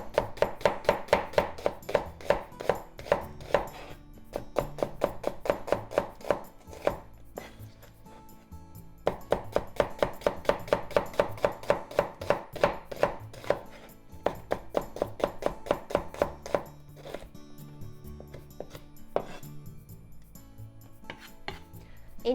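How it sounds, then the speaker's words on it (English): A knife cutting vegetables into thin slices on a cutting board for kakiage tempura, with fast regular chopping taps in long runs broken by short pauses, close and clear with no talk. "Cut into half. Then thin slices."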